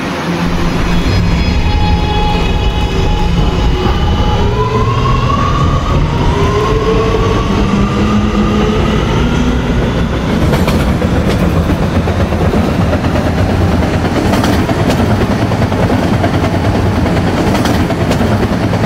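An R211A subway train in a Roblox game runs loudly and continuously, with a rising motor whine and a steady rolling rumble throughout.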